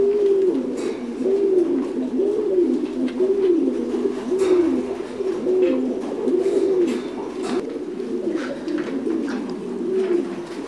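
Thai Titan meat pigeons coo in a farm loft, a close, repeated series of low rolling coos in steady rhythm, with faint scattered clicks and shuffling in the background.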